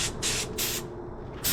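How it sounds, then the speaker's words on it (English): Spray gun painting the rims of a Yamaha Raptor 700R ATV: three short, loud bursts of hissing spray separated by brief pauses, with no talking. "This is our first time using the spray gun on the rims"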